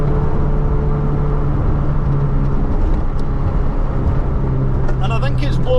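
Vauxhall Nova with a misfiring engine, stuck in third gear while driving, a loud steady in-car engine drone with a rough, uneven texture and road rumble, continuous throughout.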